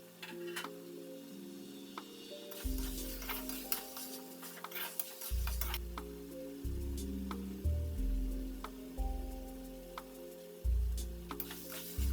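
Spice paste for raw jackfruit curry frying in a village-style pan, with a steady close sizzle and occasional stirring scrapes and taps over a continuous low tonal hum.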